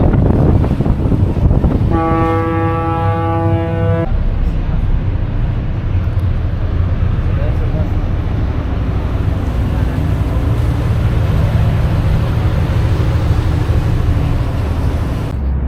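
A tour boat cruises back toward Manhattan on a New York harbor sightseeing trip, with steady, heavy wind buffeting throughout, the engine and water rumbling underneath, and a brief tonal hum early on.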